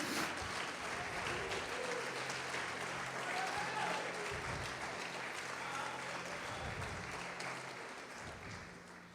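A church congregation applauds loudly and continuously during a sermon, a thick wash of clapping and crowd noise under a low hum, slowly tapering at the end.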